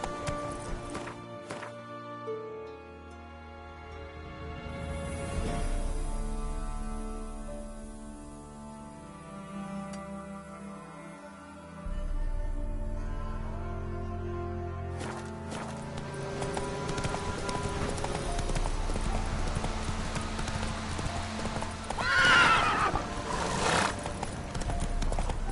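Video game horse Roach gallops with steady clip-clop hoofbeats and gives a neigh, set against a musical score and rain-like ambience, with no voices.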